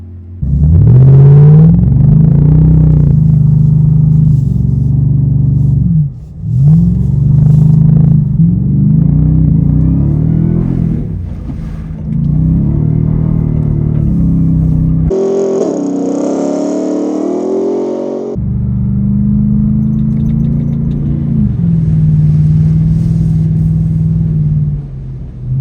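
A 2024 Ford F-150 Raptor R pickup driving off road, its engine rumbling loud and close with repeated revs and surges, one stretch sounding muffled and shifted, no speech.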